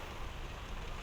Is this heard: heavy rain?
yes